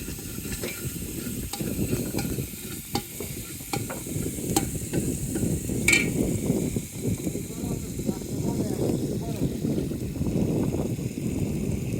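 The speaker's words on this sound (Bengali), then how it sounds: "বেটে রাখা মশলা এই গরম তেলে দিয়ে বেশ কিছুক্ষণ নাড়ানোর পরেই আমরা মাছের ঝোলটা বানাতে পারবো" Ground spice paste sizzles and fries in hot oil while being stirred for a ribbon fish curry cooked on a boat in the Bay of Bengal, with steady frying, scraping clinks of the stirring utensil and a voice talking over it.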